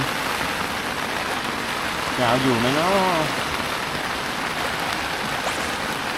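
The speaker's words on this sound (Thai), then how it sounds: "ตกใจตื่นได้ยินเสียงฝนหนักเลย" Heavy rain pours on a tent in a constant dense hiss, with wind, and a voice speaks briefly partway through.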